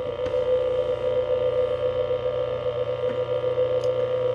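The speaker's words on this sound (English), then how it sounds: "When you turn it on, it should make a weird kind of ringing drone-like noise." Laser theremin switched on, giving a weird steady ringing drone with a strong sustained tone and buzzy overtones, continuous and fairly loud throughout with no talking.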